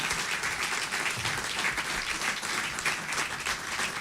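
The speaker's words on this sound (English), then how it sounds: "Another round. Round of applause for Dr. Sarah Kofi-Kwaku." An audience applauds after an anniversary lecture, with many hands clapping in a dense, continuous wash of sound at steady moderate volume throughout.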